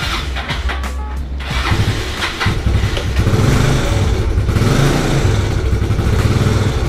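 A Yamaha Mio Soul scooter, freshly oil-changed, starts up and idles before revving steadily on a test drive, its engine drone close and loud throughout, with no speech.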